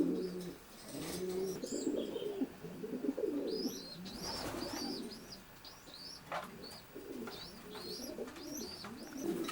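Racing pigeons in a loft with secluded nest boxes coo steadily, with overlapping low cooing calls, occasional chirps and a brief wing flutter, all close and fairly loud without talk.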